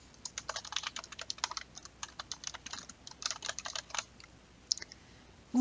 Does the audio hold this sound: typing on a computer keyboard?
yes